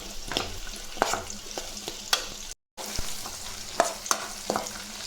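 Shallots sautéing in a pan for a drumstick-leaf chutney, a steady close sizzle broken by repeated sharp scraping clicks of a spoon stirring, with one brief dropout midway.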